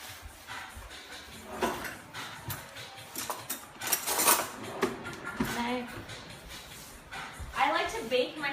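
Sweet potato pieces set onto a baking pan during home meal prep, giving a series of soft clunks and scrapes with light clatter, spaced irregularly and mixed with faint background noise.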